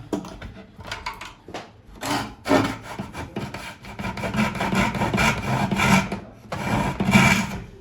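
Wood on a bağlama is sanded by hand with a sanding block in uneven back-and-forth strokes, a close rough rasping that speeds up and grows louder toward the end.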